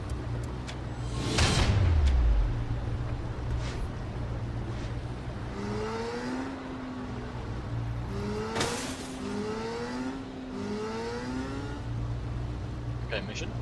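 A delivered car in Saints Row The Third drives off with a loud whoosh at first, then its engine revs in repeated rising sweeps, steady and close, with voices in the background.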